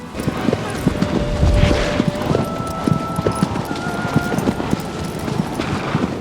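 Agro the horse carrying a rider at speed in Shadow of the Colossus, hooves pounding in a fast, steady clip-clop rhythm, close and clear throughout.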